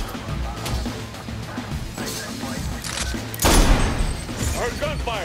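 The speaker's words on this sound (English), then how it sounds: "Heard gunfire this way." Saints Row: The Third firefight: scattered gunshots and crashing impacts at moderate distance, a louder burst near the end, with a voice talking throughout.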